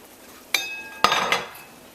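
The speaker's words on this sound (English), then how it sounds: "put the lid on there, and let that go for about 10 minutes or so." A lid set onto a pot of coconut stew beef: a sharp metallic clank, then a second louder clatter with a brief ringing rattle as it settles, close up with no talk.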